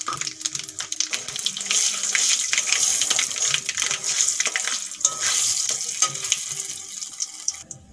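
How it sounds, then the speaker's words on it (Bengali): Bay leaf and five-spice seeds crackle and sizzle as they hit hot mustard oil in a pan, a dense bright spitting hiss with scattered pops, close and loud throughout, no voices. "তেল গরম হয়ে গেছে, দিয়ে দেবো একটা তেজপাতা আর দিয়ে দেবো 5 ফোড়ন।"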